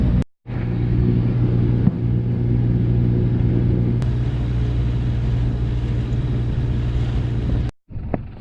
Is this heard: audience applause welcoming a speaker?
no